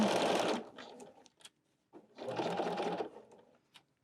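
A sewing machine stitches a folding wallet in two quick whirring runs, close and clear, with a brief back stitch and soft handling noises between them.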